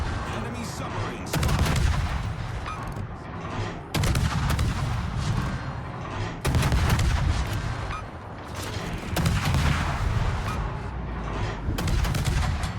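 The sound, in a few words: ship guns firing SAP shells, from a video game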